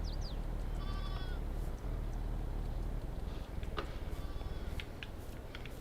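Sheep and lambs bleat in the Farming Simulator 22 video game, with a couple of clear, wavering calls over a steady, low ambient rumble.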